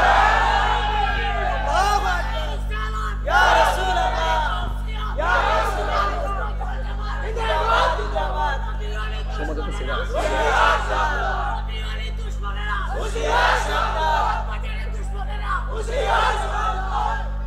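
A large crowd at a religious sermon chants slogans in rhythmic bursts, loud repeated shouts rising and falling over a steady low hum for the whole stretch.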